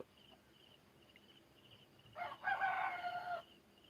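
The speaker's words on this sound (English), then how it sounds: "listening to all the roosters crow" A rooster crows loudly once, a harsh drawn-out call over a quiet background with faint distant clucks.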